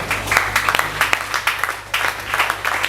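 A church congregation at a Sunday service applauds in steady, rhythmic clapping, loud and close, with brief pauses in the beat and a low hum underneath.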